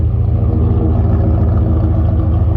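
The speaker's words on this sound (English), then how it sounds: "it's just idling now." A second-generation Ram 1500 pickup idles steadily after a long day of diagnosing faults, a loud, close, continuous low engine rumble with an even pulsing throb throughout.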